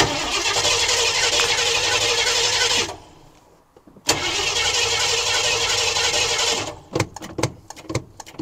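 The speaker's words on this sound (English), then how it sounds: "we are good to hook this up and fire it up now" A 1973 Ford Econoline engine with an Edelbrock carburetor cranks loudly, stops for about a second, then cranks again and coughs into a few uneven sputters and clanks close by.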